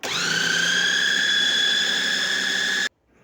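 A kitchen mixer grinder whirs loudly while blending oats and egg, a steady high-pitched motor whine with a grinding edge that runs for nearly three seconds and then cuts off abruptly into silence.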